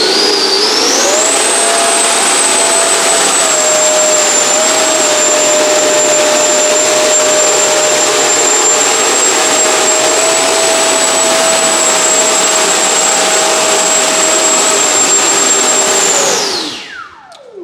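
An FMS BAE Hawk 80mm electric ducted-fan RC jet spools up to a loud, steady high-pitched whine, holds at throttle for a long stretch, then winds down quickly at the end.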